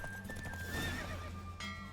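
A horse gallops with rhythmic clip-clop hoofbeats and gives a clear whinny during a horse race in the video game The Witcher 3, heard fairly quietly, with a rush of movement alongside.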